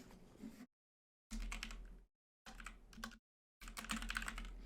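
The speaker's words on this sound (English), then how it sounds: "I was just typing." Bursts of keyboard typing on a computer, clattering in three or four separated spurts with silent gaps between, fairly quiet and close, with a low rumble underneath and no talking.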